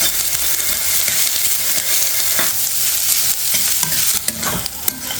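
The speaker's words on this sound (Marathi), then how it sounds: "आता आपण कांदा टाकू। गॅस आपण कमीच ठेवणार आहे।" Onion fries over low gas in a pan for vermicelli upma, a bright, continuous sizzle heard up close with occasional scraping stirs of the spatula; no one speaks.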